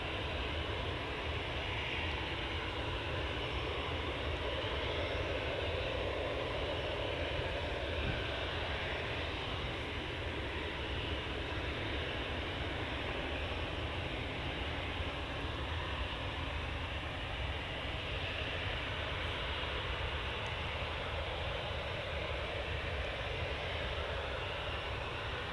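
A private jet engine produces a constant loud roar that fills the whole stretch without pause, broad and steady with no voices over it.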